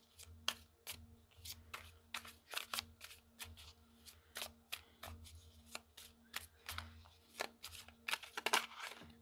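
Tarot cards shuffled and laid out on a table, giving a run of crisp, quick riffling snaps and slaps close by, repeated steadily over a soft low hum with no talking.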